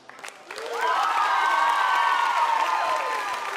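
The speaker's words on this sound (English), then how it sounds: "Have a round of applause for our tech crew." A crowd at a live show applauds and cheers for the tech crew. The sound swells quickly into loud sustained clapping and shouting that carries on to the end.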